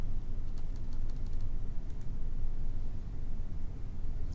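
Close, crisp clicks of arrow keys pressed on a computer keyboard, a quick cluster of taps followed by a couple of isolated presses over a steady low background hum.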